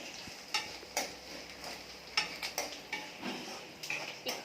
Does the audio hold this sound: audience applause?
no